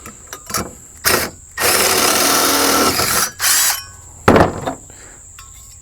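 A power drill boring out a bolt hole in a tractor's ROPS frame, for a 1/2-inch bolt: several loud whining bursts of varying length, with short pauses between, close to the microphone and with no talk.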